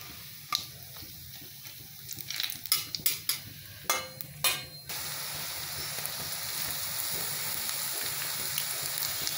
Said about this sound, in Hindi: मैं जीरा को डाल देती हूँ इसमें। जीरा को छिटकने दे रही हूँ मैं।